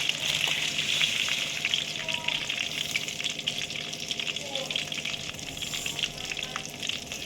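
Mustard seeds and cumin fry in hot oil in a pan for mango ginger pickle. A dense, steady crackling sizzle carries light popping throughout, near and moderately loud, with no voices.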